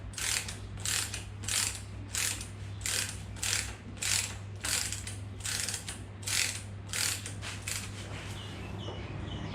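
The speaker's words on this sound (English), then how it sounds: "Once it's threaded, you can use your wrench to tighten it up." A wrench ratchets rapidly in regular bursts while tightening a fork cap on a Kawasaki Vulcan 650, the clicking close and steady over a low constant hum.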